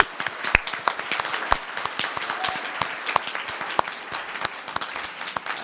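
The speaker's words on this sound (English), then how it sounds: "give another massive round of applause for all 4 of our pitchers today" Audience applause at a business pitch event, a dense wash of many hands clapping evenly for several seconds with a few sharp louder claps standing out near the front.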